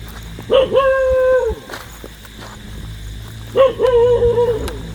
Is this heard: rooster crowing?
no